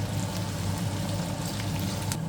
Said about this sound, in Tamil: இந்த பல்லு வந்து உள்ளிப்பூடு வந்து நல்ல பொன்னிறமாக வரும் மட்டும் வறுக்க வேணும்